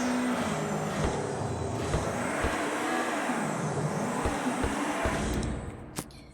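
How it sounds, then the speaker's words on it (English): A brutal flat-4 rally car engine in Car Dealership Tycoon drones and revs close up, its pitch rising and falling through gear changes, with sharp pops and a fading pass near the end. "Just the brutal flat 4 rallying engine."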